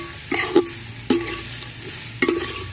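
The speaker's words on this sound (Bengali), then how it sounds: "পেঁয়াজের সঙ্গে মুগ আর মুসুর ডালটা একটু নেড়ে চেড়ে ভেজে নিচ্ছি।" Mung and masoor dal stirred and fried with onion in a pan: three distinct scraping stir strokes over a steady low sizzle, close and fairly quiet, with no talking.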